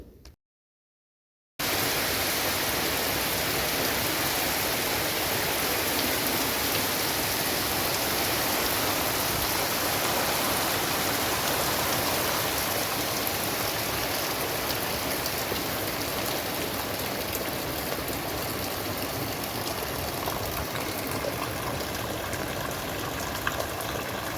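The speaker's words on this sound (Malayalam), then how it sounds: "ചോറ് തിളക്കുന്നതിൻ്റെ ഇടയിൽ തന്നെ നല്ലൊരു മഴ പെയ്തു പോയിട്ടുണ്ടായിരുന്നു" Heavy rain pours down steadily, a dense continuous hiss of drops drumming on surfaces, loud and unbroken after a brief silent start.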